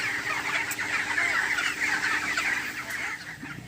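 Chickens on an Indian poultry farm in hot weather cluck and call in a dense, continuous chorus, many birds overlapping close by with no talking.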